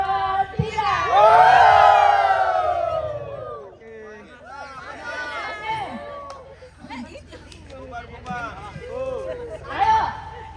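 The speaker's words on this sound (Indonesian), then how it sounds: "Berteriak lagi." A group of people shout together in unison for a family photo at a funeral gathering in Tombang, Indonesia. The loud, cheering burst comes first and fades into crowd chatter and smaller calls, with one more rise near the end.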